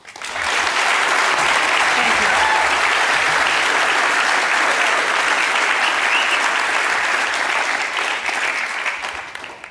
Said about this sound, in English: so please give them your heartfelt and authentic applause, Lyssa and Michael.